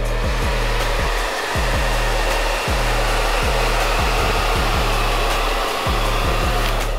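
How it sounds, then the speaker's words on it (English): A hair dryer blow-dries curly hair straight, its loud, steady close-up whoosh running without a break while the motor's pitch wavers slightly as it moves. "you're gonna start blow drying straight up"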